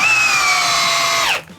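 A Bosch 1330C drill drives a 5-inch screw with a loud, high motor whine holding steady, then spinning down and cutting off sharply near the end; no talking.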